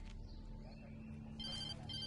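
A telephone rings in the Alan Wake video game, a faint repeated electronic ring sounding twice over a low steady background hum, with no one talking.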